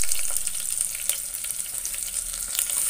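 Green chillies and onions sauté in a pan for prawn biryani, giving a steady, bright sizzle with soft stirring scrapes, close and continuous with no voices.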